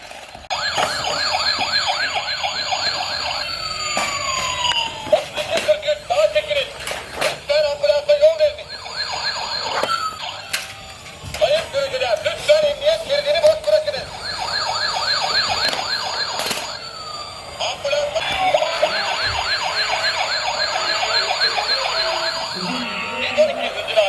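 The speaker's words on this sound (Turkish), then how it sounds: "Yalnız ambulansın sesi çok güzel arkadaşlar" A toy ambulance siren wails in repeated electronic cycles, close and fairly loud, with a person talking over it at times.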